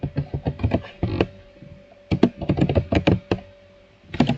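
Bursts of quick typing on a computer keyboard, clustered key taps separated by short pauses, close and clear with no talk.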